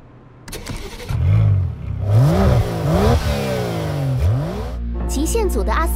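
An Aston Martin DB11 luxury performance car revs hard in the Racing Master racing game, its mid-pitched engine rising and falling through several loud sweeping revs, with game music and effects beneath.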